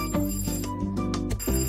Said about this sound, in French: C'est le téléphone.